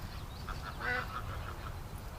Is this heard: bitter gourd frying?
no